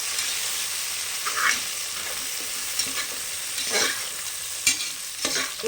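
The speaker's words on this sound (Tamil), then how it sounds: "புதினா ஒரு கொத்து நம்ம சேர்த்துக்கலாம் போட்டு நல்லா பரட்டிடலாம்" Mint leaves are stir-fried in a pan for a Bangalore-style vegetable biryani, giving a continuous sizzle broken by several scraping stirs and a sharp clack of the spoon against the pan.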